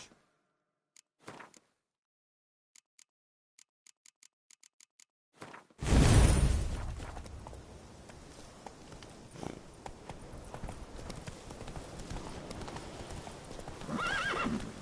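In The Witcher 3, the horse Roach whinnies after a few sparse hoof taps, then breaks into a loud, close, rhythmic clip-clop trot that continues steadily to the end alongside game ambience.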